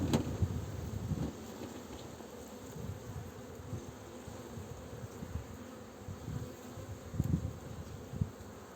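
Dense buzzing of many honeybees close by at a hive, a steady drone with occasional louder passes of individual bees.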